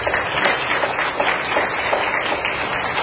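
Dense, loud applause from a rally audience fills the whole stretch as continuous clapping at an even level.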